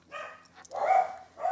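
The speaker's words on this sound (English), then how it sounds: "Oh, there's me dogs." Pet dogs barking indoors, a few loud, close barks in short bursts with brief pauses between them, no talking over them.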